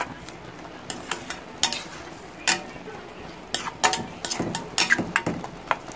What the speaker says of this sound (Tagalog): Gisa lang muna natin saglit para maluto yung kabote.